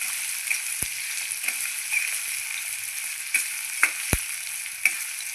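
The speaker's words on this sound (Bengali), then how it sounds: "পেঁয়াজ আর কুদ্দি ভালো করে ভাজতে হবে," Sliced onions and kurdi frying in a pan, a steady hiss of oil with occasional sharp crackles and pops, close and alone with no talking.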